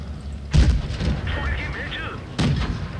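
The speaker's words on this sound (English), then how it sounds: "And the Sam Jackson is firing HE" Tank firing high-explosive shells in the World of Tanks Blitz mobile game, two sharp booming shots about two seconds apart, each with a short rumbling tail over game background noise.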